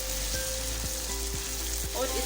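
Chicken karela keema frying in a pan with tomato, salt and turmeric: a steady close sizzle with faint regular scraping ticks from stirring, no voices.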